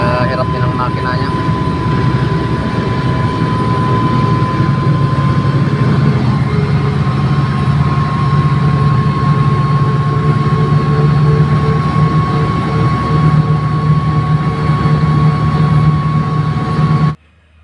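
A Komatsu quarry haul truck's engine labors steadily while climbing a long haul road up from the bottom of the quarry, a loud continuous drone with a sustained whine, heard close throughout.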